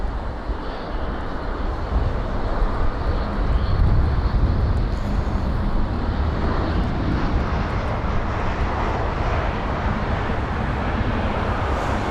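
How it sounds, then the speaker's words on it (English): An Airbus A320neo comes in to land at London Heathrow on a windy day, a loud, steady roar of engines and rushing air that holds throughout, with wind buffeting the microphone. "And here is the aircraft, the A320neo."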